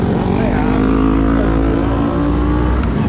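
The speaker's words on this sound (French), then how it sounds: "La Lambo on la voit, elle va décoller." A Lamborghini sports car accelerating away on a city street, a loud, rough engine roar mixed with traffic noise, holding steady before tailing off slightly.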